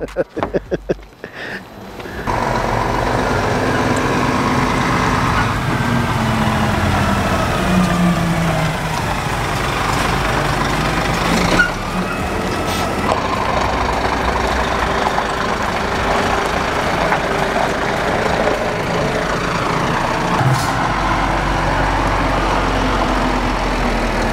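The engine of a Scania truck, a 65-year Brazil history edition, rumbles steadily and nearby, starting after a brief quiet moment and holding a constant heavy drone.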